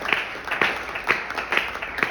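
A church congregation claps together in a steady rhythm, with loud, evenly spaced bursts roughly twice a second during worship.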